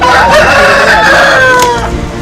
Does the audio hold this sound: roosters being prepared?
yes